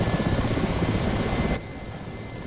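A Ka-50 Black Shark helicopter in the DCS flight simulator spools up for takeoff, a dense roaring rotor and turbine wash that drops abruptly to a quieter hum partway through, no talking.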